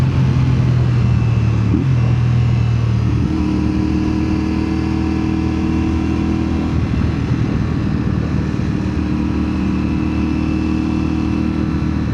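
A motorcycle engine drones steadily throughout, with a rise in pitch early on as it accelerates, then a lower sustained hum as it passes nearby.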